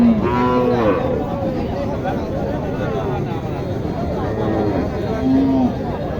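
Sahiwal cows and calves low at a busy livestock market, several moos rising over a constant hubbub of crowd chatter and people talking.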